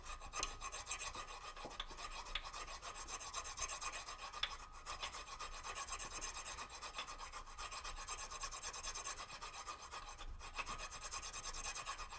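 Steady, rhythmic rasping of a hand file scraping back and forth over metal during crankshaft repair, close up and continuous with no voices.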